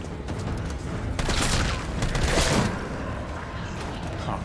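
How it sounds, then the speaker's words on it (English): Zombie corpses bursting apart in Resident Evil 3, heard as a dense run of crackling, popping blasts that swell and fade over a few seconds, loud and near with no talk. "So zombies explode now."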